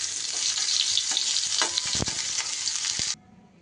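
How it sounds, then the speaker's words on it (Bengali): Moringa drumsticks and potatoes sizzle in hot oil in a pan, crackling steadily while a spatula scrapes and clatters a few times, then the frying cuts off abruptly near the end. "সজনে ডাঁটা বেশি ভাজার দরকার নেই, জাস্ট একটু নাড়াচাড়া করে নেব আলুর সাথে।"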